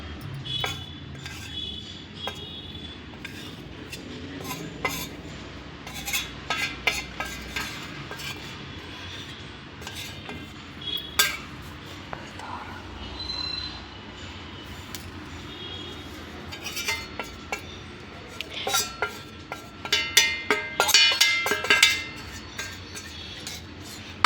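A spoon stirs a spice mixture with a little water in a small bowl for spicy peanuts, making scattered light clinks and scrapes that turn into a quicker, louder flurry near the end.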